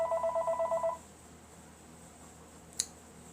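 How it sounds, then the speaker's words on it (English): A telephone ringing for an incoming call, a rapid pulsing electronic trill lasting about a second, then quiet with a single faint click. "Dad's on the phone calling."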